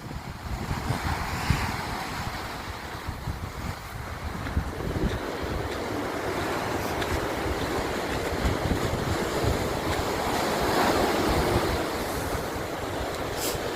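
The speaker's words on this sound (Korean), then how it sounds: "바다, 바다 소리 들리죠?" Ocean waves washing against the East Sea shore beside a seaside temple, a steady broad roar of surf with gusty wind noise buffeting the microphone, continuous and fairly close, with no voices.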